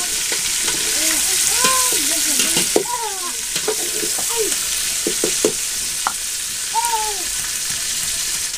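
Fish cooking in a pan, a constant hissing sizzle with repeated spoon scrapes and short pitched squeaks scattered over it, close and fairly loud throughout.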